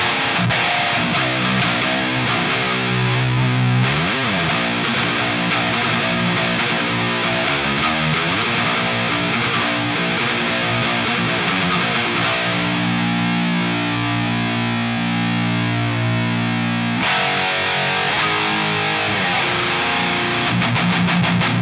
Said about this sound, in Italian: Vediamo col gain a palla cosa succede.